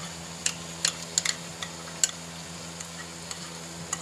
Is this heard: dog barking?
no